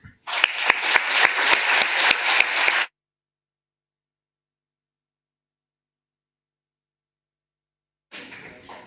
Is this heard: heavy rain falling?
no